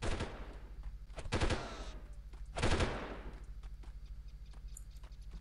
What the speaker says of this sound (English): somebody's shooting at me as well, because I can hear the bullets whizzing past me